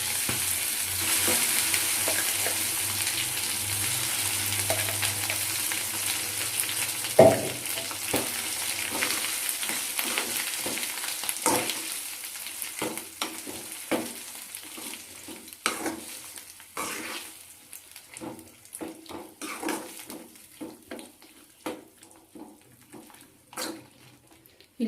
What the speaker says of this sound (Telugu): ముందుగా మిక్సీ పట్టుకున్న బీరకాయ చట్నీ తాలింపులో వేసుకున్నామండి.